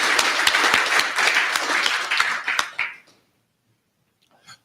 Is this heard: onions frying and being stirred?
no